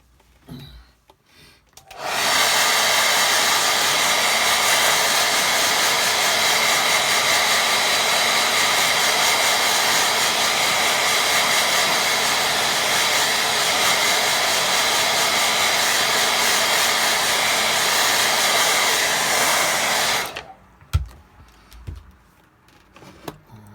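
Hair dryer drying a watercolour painting, a loud steady blowing whoosh running for about eighteen seconds before switching off, followed by faint handling sounds.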